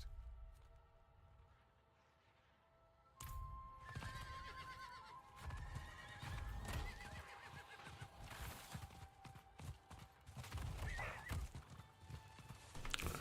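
Horse hooves clop along with a whinny over game sounds and faint tonal music in Diablo IV, rhythmic and mid-distance, getting busier and louder toward the end.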